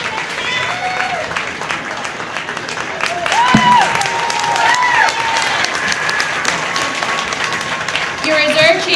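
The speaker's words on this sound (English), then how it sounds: "Give another nice round of applause here." Spectators at a county fair market hog show give a round of applause, steady clapping mixed with crowd noise and a voice over a loudspeaker.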